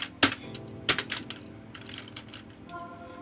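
Keys clack on a computer keyboard while code is typed, in two sharp bursts followed by lighter, scattered taps over a few seconds.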